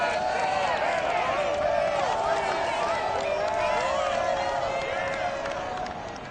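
Stadium crowd noise in the Madden NFL 22 video game, a Texans versus Bengals Monday night matchup at Paul Brown Stadium in Cincinnati: a steady, dense roar of cheering fans, loud and continuous, easing slightly near the end.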